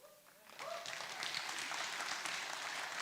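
Audience clapping swells up after a brief pause and carries on steadily at a county board of commissioners meeting, heard from the middle of a public hall.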